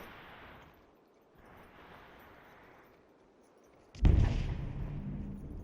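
Gunfire in the VR shooter Population: One during a competitive mixed-doubles match: a muffled rumble of distant shots, then a sudden loud close burst of fire near the end.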